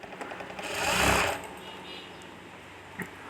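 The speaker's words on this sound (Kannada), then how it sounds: "ಹಾಗೆ ಫ್ರೀಯಾಗಿ ಹೊಲಿಗೆ ಹಾಕ್ಕೊಳ್ಳೋಣ." A sewing machine stitches thread piping onto blouse fabric in a steady mechanical whir that swells and fades. A small click follows near the end, and there is no talking.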